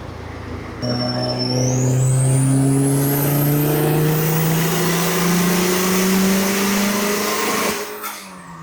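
Budget turbocharged Honda engine revving hard on a dyno, a loud sustained rising whine and roar held for several seconds before dropping off abruptly.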